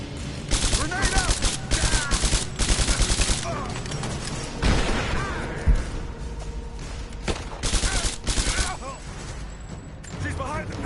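Rapid automatic gunfire in a Rise of the Tomb Raider firefight crackles in repeated loud bursts, with heavier single shots and an impact thump between volleys, while voices shout over the shooting.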